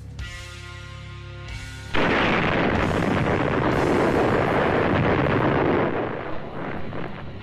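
A huge hydrogen bomb detonation: a steady low rumble suddenly gives way to a loud, sustained broadband roar that holds for several seconds before slowly easing off.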